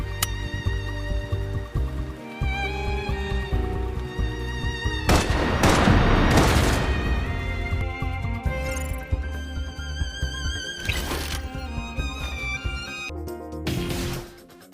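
Sustained suppression gunfire in the game Love & Deepspace, a dense rolling burst of shots and booms that swells mid-way and recurs in sharp bursts over a musical score.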